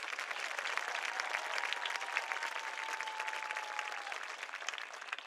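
Graduation audience applause, a continuous wash of many hands clapping at a moderate distance for several seconds, with a faint tone running beneath it.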